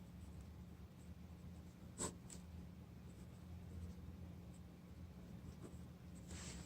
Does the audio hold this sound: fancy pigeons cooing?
no